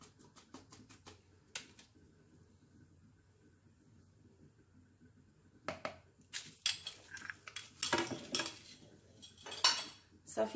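Bran and carrot cake ingredients are mixed with a utensil in a bowl: quiet scraping at first, then a burst of loud clinking and scraping strokes against the dish in the second half.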